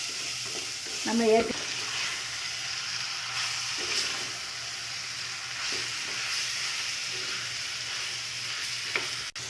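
Chicken hits sautéed tomatoes in a clay pot for chicken kuzhambu, sizzling and frying steadily with stirring, while a voice speaks briefly near the start.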